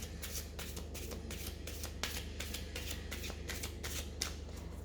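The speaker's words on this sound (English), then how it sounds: "So first I'm going to clear the cards." A deck of Romance Angels oracle cards is shuffled by hand, giving a close, steady run of quick riffling flutters with no voices over it.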